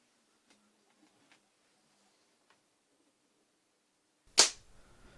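Near silence with a few faint ticks, then a single sharp, loud crack of a Łucznik wz. 70 air rifle shot near the end, quickly fading.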